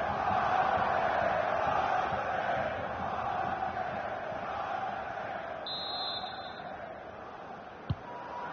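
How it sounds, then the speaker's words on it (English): A large football stadium crowd in the FIFA 22 video game roars steadily in the distance after a goal, a broad continuous wash of cheering with a brief knock near the end. "just listen to this crowd"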